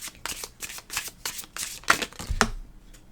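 Tarot cards being shuffled by hand during a reading, a run of soft papery riffles and slaps in quick irregular bursts, close and fairly quiet, with a sharper snap near the end and no talking.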